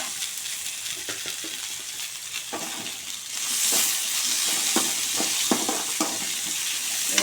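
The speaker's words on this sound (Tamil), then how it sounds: "இப்போ வெங்காயம் தக்காளி அரிஞ்சு வச்சுன்னா அதை போடணும்." Chopped onion and tomato fry in a pan for egg kuzhambu, giving a steady close sizzle with stirring clicks and scrapes, the sizzle growing louder and brighter partway through.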